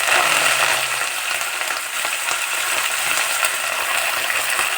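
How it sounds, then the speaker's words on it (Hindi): Cumin seeds and green chillies sizzle and crackle steadily in hot oil for a home-style tadka. The frying hiss is close and continuous, with small pops, and nobody speaks. "तड़का दे दिया।"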